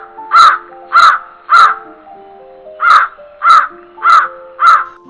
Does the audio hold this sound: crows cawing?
yes